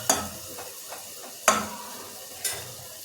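Tomatoes being stirred in a cooking pan for soybean khichdi: a few sharp spoon scrapes stand out, one near the start, a louder one midway and another near the end, with softer stirring and a faint sizzle between them.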